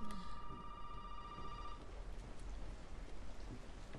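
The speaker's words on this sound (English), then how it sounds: "Phone's ringing." A phone rings in the survival horror video game Resident Evil 7, a thin electronic trill that fades after a couple of seconds into a dense, steady wash of rain-like ambient noise.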